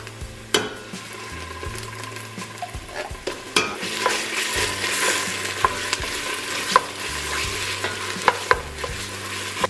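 Tomato paste is stirred into a sizzling pan of Slovenian paprika stew, a steady close frying hiss broken by repeated scraping stirs and occasional utensil knocks against the pan, with no talk.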